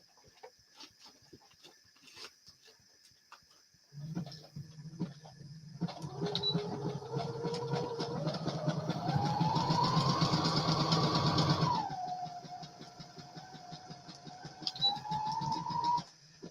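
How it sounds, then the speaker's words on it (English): A home sewing machine runs a zigzag stitch, its motor rising to a steady, close whirring hum for several seconds, then easing to a lower run before stopping. "And we'll zigzag stitch this baby on here."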